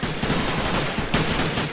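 Dense, continuous automatic gunfire from a firefight in the video game Atlas Uprising, loud and unbroken for the whole stretch with no voices over it.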